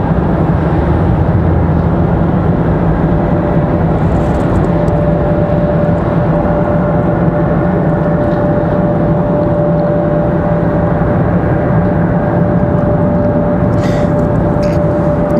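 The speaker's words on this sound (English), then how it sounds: "Be a nice takeoff." An airplane takes off from Raleigh-Durham International Airport, heard as a steady, loud, distant jet roar with a sustained whine running through it, no voices over it.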